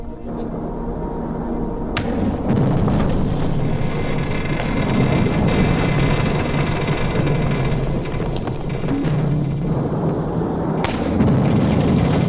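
Practice depth charges fired by a ship over a submerged submarine boom out as explosions, with sharp blasts near the start, around two seconds and near the end over a loud, rumbling wash of noise.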